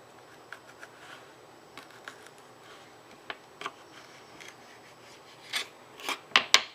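A knife cuts around a cactus, making sparse, faint scraping clicks and rasps that grow into a few sharper, louder scrapes near the end, with no talking.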